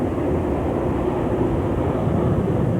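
Concorde accelerates down the runway at full throttle with afterburners lit, a deep, steady roar heard from inside, loud and unbroken with no talking.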